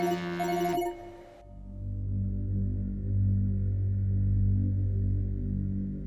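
A phone rings for a call in an indoor drama scene, a bright electronic ring that cuts off after about a second, then a low steady hum with no talking.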